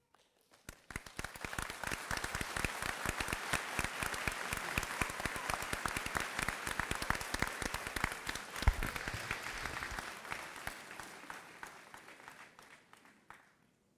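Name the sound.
audience applause at commencement ceremony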